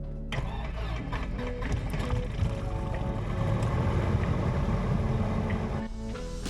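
Light aircraft propeller engine starting and running steadily, a loud continuous droning rumble close by with no talking.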